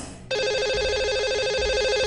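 A telephone rings as a lucky caller joins a live phone-in show, giving a loud, steady electronic trill that starts suddenly after a brief quiet moment and keeps going without a break.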